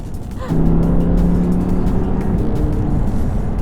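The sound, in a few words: sports car engine while driving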